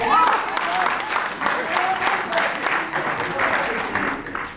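Audience applause in a lecture hall, a continuous wash of clapping lasting several seconds at moderate loudness.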